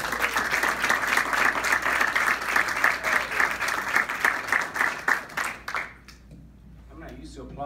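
An audience applauds a speaker taking the stage at the INBOUND 2018 conference in Boston. The dense, loud clapping runs steadily, then fades away near the end as a voice begins to talk.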